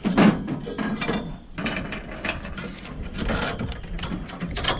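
A bolt being screwed into a wooden chicken coop, with repeated close ratcheting and grinding mechanical clicks that come in uneven bursts with short pauses, fairly loud and without talking.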